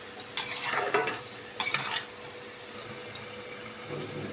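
A spatula stirs cabbage, seasoned with sugar, in a frying pan for katla fish-head ghonto: two bursts of scraping over a quieter, ongoing frying hiss.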